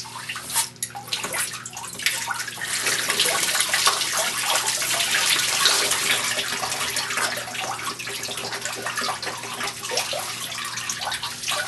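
Water gushes steadily out over the control head of a Bedrock Buster gold-prospecting tool used to pull gold from bedrock cracks, a continuous splashing rush with a few gurgles, fairly near and alone.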